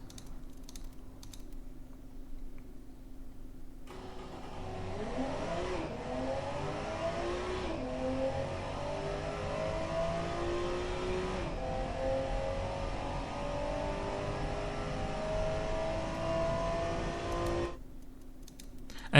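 A simulated car with very short gearing and all-wheel drive accelerating in the Automation car-design game, its engine note climbing through several rising sweeps as it shifts up, steady and moderately quiet, then cutting off abruptly.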